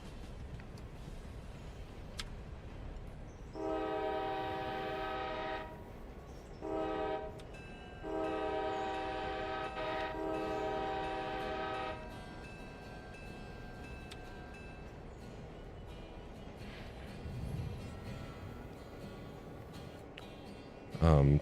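A freight train with a boxcar on its tail end, in a railway video game, sounds its horn in two long, steady blasts with a short one between, over a low rolling rumble.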